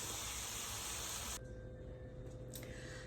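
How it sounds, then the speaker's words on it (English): Ground hamburger cooks in a pan with minced garlic and onion, giving a loud, steady sizzling hiss that suddenly drops to a quieter, thinner sizzle partway through. "Now we're going to cook this until the hamburger gets done"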